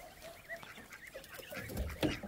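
Three muscovy ducklings peep and chirp in short, scattered calls close by, with faint rustling and a louder burst of cheeping near the end.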